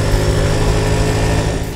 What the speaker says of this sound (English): the Gixxer's engine sounds nice too, without being noisy, and it has smooth revs